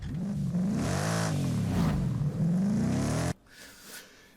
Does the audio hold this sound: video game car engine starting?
yes